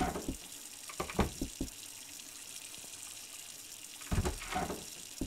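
Tap water running for a bath, heard as quiet gushing and splashing bursts against a steady hiss.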